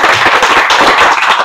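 A burst of quick hand claps, loud and close, in a rapid uneven rhythm. The sound comes from a student gathering at an institute in Sangrur, Punjab.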